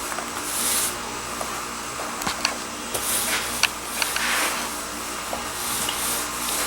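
Sprayer applying a second coat of sealer onto exposed aggregate GFRC, a steady hiss lasting throughout with a few small clicks, close and fairly even in level.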